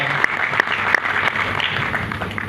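Applause from an audience at a life-coaching talk, continuous clapping with a few crisp louder claps near the start, close and fairly loud, with no speech over it.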